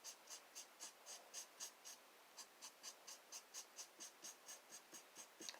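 A black marker drawing on paper for a collage craft makes quick, rhythmic scratchy strokes, about a dozen short squeaks in a row, pausing briefly and then continuing, close and quiet with no talk.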